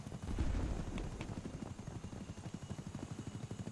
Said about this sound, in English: There is a helicopter making helicopter noises around here.